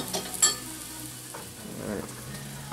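Butternut squash and shallots saute in a pan for a curry couscous, a soft low sizzle with light stirring scrapes and a brief clink near the start, steady and close with no voices.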